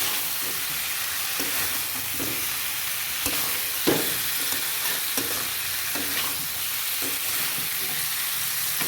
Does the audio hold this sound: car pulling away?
no